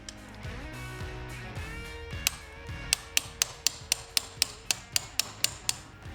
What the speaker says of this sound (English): take my little baby hammer and knock out the pin.